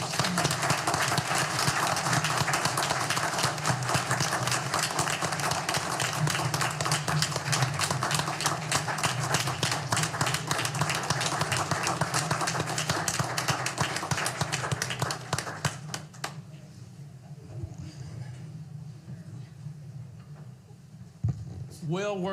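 Sustained audience applause at an Arkansas Game and Fish Commission meeting, dense steady clapping for about fifteen seconds before fading out, followed by someone speaking.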